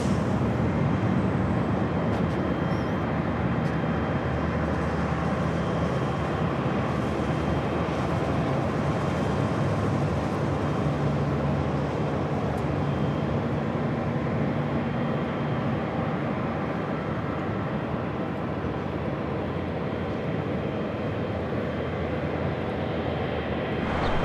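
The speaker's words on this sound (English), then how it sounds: "Air France Flight 23, the 777 at 300ER heading down to 24 left" Steady broadband jet roar of an Air France Boeing 777-300ER taxiing at LAX, a continuous airport rumble and hiss holding even loudness throughout with no voices.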